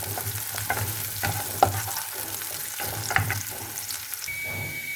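Spices frying in a pan for masoor lentil dal, with steady sizzling broken by repeated scraping stirs and a few sharp knocks of the spoon against the pan, close and clear.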